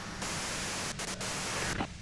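Radio static in the Disco Elysium video game, a steady loud hiss of white noise with a few brief dropouts, alone without voices.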